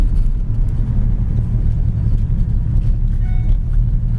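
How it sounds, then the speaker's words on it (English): A yellow 1967 Ford Mustang with a six-cylinder engine, headers and dual exhaust, its steady low exhaust rumble droning loud and close without a break. "This little 6-cylinder sounds good with the dual exhaust in the headers."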